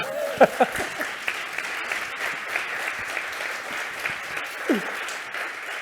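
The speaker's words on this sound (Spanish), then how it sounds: "Un aplauso por lo menos, ¿no?" Audience applause at a human resources talent conference in a hall, a steady spread of many hands clapping with a few louder nearby claps early and a brief voice near the end.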